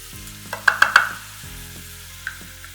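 Scallops and shrimp with dried thyme sizzle in a pan as they are stirred, a soft steady frying hiss under a few sharp utensil clinks, close up, with no talking.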